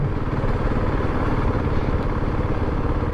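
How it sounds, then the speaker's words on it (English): A steady, raspy Husqvarna 701 motorcycle engine runs continuously at close range, a gritty low rumble with no pauses and no voices. "Can't get over how good it sounds as well. Proper little raspy engine note."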